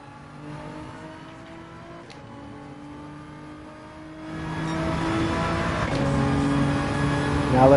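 A Nissan GT-R's engine in Gran Turismo 7, droning steadily then swelling into a louder, rising rev that climbs toward the end.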